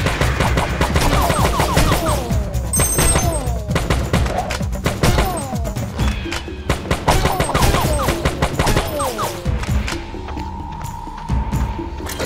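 Rapid bursts of gunfire crackle almost continuously in the Major Mayhem video game, with dense volleys and thumps layered over game sounds and a steady tone near the end.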